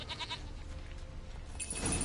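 A goat bleats in the video game The Witcher 3: Wild Hunt, giving several short nasal calls at moderate volume over a steady game ambience, with a louder rising bleat near the end.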